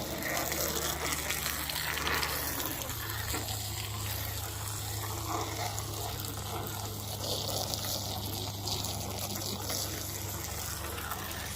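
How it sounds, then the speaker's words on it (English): Water gushes steadily from a hose or tap over metal Fox-body Mustang door plates during a rinse, a continuous close splashing wash with no talk. "let's rinse them down and see what we got"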